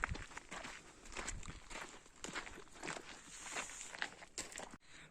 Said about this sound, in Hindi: सिर्फ जूतों की आवाज़ आ रही है।